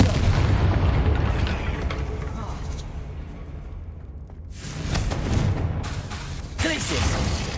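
Confringo fire spell exploding in Hogwarts Legacy, with loud booming blasts that swell and recur amid a rumbling background, and a voice speaking over the action.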